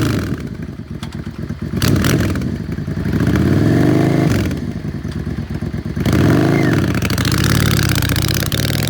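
A used 2003 Yamaha V-Star 650 Classic lightweight V-twin cruiser runs close by, its engine rumbling steadily with clattery idle and rising, falling revs throughout.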